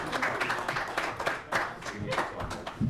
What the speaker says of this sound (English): Everybody applaud.